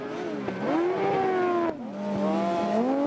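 A speedway motorcycle races with the throttle held wide open, its loud engine note climbing, dropping briefly, then climbing again as it powers around the track.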